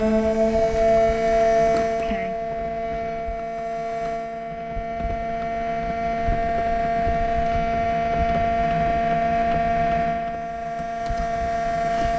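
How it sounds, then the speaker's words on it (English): A motorhome's onboard water pump runs with a steady tonal hum and whine, a continuous drone that holds at an even level throughout with faint background rumble. "Right, Sue, can you put that pump on then?"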